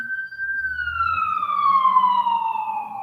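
An emergency siren wails steadily, its tone slowly sliding downward as it passes, with faint background rumble and voices underneath.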